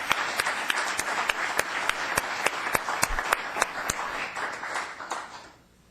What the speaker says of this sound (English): Let's have applause for this great guy.